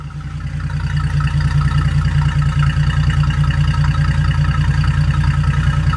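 A 1948 Pontiac Torpedo engine idles at the tailpipe with a steady, low, even burble that rises in the first second and then holds loud and close, with no voices.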